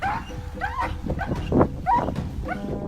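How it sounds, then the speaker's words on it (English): Agitated dog that is afraid of water, giving repeated rising whimpers and yelps in short bursts, fairly close and loud, with some background noise underneath. "Looking at the dog's agitation, it is clear that he is very afraid of water"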